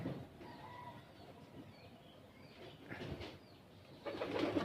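Pigeons kept by a breeder coo softly at close range, low throaty calls coming in short, uneven bursts over a quiet background, with a louder stretch of cooing near the end.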